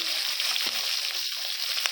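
Small hilsa-like khoira fish lightly frying in a pan give off a steady, close hiss of bubbling oil, with a few soft pops and crackles over just under two seconds.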